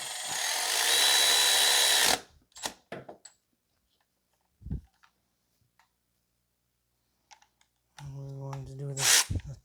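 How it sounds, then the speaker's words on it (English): Power tool whirring as a 12 mm alternator mounting bolt is driven in on a 2005 Toyota Corolla 1.8, a close steady buzz at the start and again near the end, with faint clicks and brief quiet talk in between. "Now we're going to install the 12 millimeter, the mounting bolt for the alternator"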